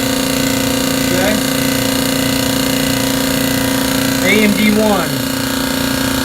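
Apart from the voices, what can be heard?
tankless air compressor running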